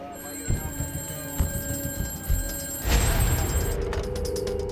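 A telephone rings in the early morning hours, an electronic ring with rapid bell-like pulses near the end, over a background of mechanical clicks and thumps.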